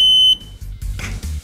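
A game show answer buzzer gives a short, sharp, loud electronic beep at the very start, followed by quieter room noise.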